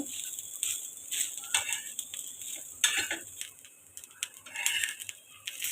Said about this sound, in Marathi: हे सुद्धा आपण छान असं खरपूस भाजून घेऊया